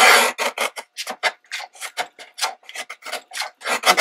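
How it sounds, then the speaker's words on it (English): Paper being trimmed for a handmade double-sided papercraft album gives a rapid series of short, close rasping cuts, about a dozen strokes in quick rhythm, with no talking. "I'm going to trim that white edge because that's part of the branding strip."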